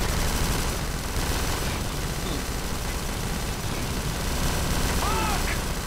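Sustained rapid gunfire in Kane & Lynch 2 clatters nonstop in a dense, loud barrage of machine-gun bursts and impacts, with a voice occasionally audible beneath the shooting.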